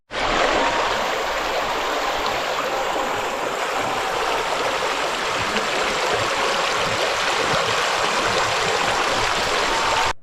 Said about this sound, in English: then reaches a water stream.